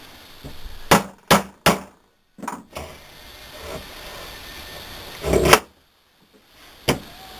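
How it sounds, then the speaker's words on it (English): A bushing being hammered into a South Bend 9A lathe part resting on an improvised anvil, several sharp metallic bangs spaced irregularly, close and loud, with a heavier thud partway through. "We actually kind of have to bang this guy in there a little bit. So I'm using this as my anvil"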